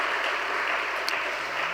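Steady, dense applause from a church congregation, a continuous wash of many hands clapping at once without pause.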